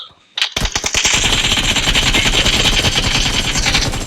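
Loud, rapid automatic gunfire from the mobile shooter game PUBG Mobile opens with a sharp first shot. Sustained bursts then blend into a dense, continuous rattle of shots for several seconds.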